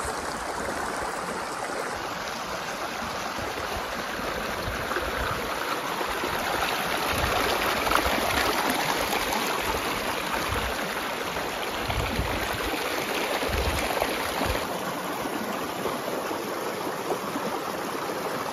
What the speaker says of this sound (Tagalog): Nanggagaling kasi yan sa falls.